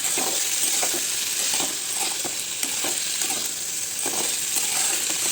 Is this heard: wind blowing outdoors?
no